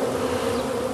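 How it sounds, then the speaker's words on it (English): Swarming bees shaken out onto a hive on a wartime-era farm, a loud, dense, steady buzzing drone filling the whole moment with no voices. "When bees are swarming,"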